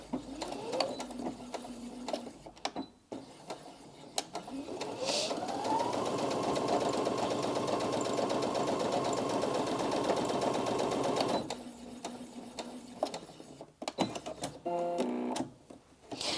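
A Brother Innov-is M380D sewing and embroidery machine stitches through four layers of 10-ounce denim, its motor spinning up into a fast, steady whirring run for several seconds before slowing, with short starts and stops on either side.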